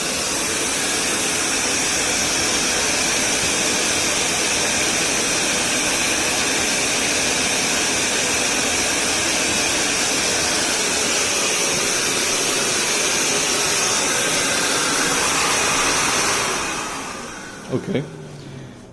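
An electric air pump roars steadily while inflating a Saluspa Laguna inflatable hot tub, a loud continuous rushing whine that runs for about seventeen seconds, then cuts off, followed by a couple of faint knocks.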